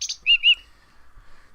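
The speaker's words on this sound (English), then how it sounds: "A contented fat blue bird and his reflection." Chirping of a fat blue bird in the video game Book of Unwritten Tales 2: a high burst, then two clear tweets close together, loud and near, followed by quiet.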